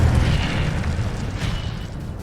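Incendio fire spell cast in Hogwarts Legacy, a heavy low booming burst of flame that rumbles loudly and fades slowly over about two seconds, with no voices.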